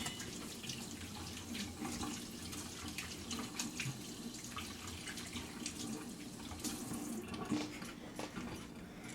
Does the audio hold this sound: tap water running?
yes